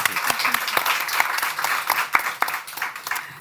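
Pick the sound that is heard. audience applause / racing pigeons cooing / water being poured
audience applause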